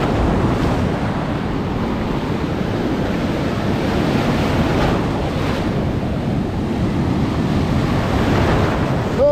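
Ocean waves break and wash continuously onto a rocky stretch of RAT Beach, a steady loud roar of surf with rumbling swells and gusts of wind buffeting the microphone throughout.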